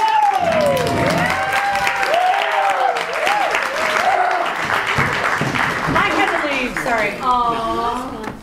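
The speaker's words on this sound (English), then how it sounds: "But let's clap for them!" Improv comedy show audience claps and cheers, a steady wash of applause lasting the whole stretch with voices and a few whoops rising over it.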